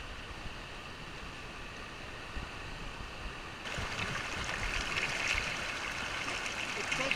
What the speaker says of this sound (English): Oh, look at that, just like a rapid. White water rapid.